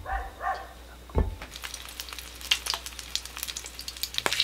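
Egg-coated slice of kabocha pumpkin laid into an oiled frying pan over very low heat, giving a soft sizzle with a brief thump as it goes in, followed by light crackling and small taps.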